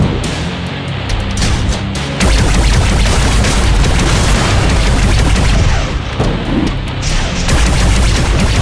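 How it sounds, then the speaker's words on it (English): A bomb goes off in the video game Gunhead, a sudden loud blast near the two-second mark that gives way to a heavy, sustained roar of crackling booms and gunfire-like bursts, loud and close. "Bomb triggered."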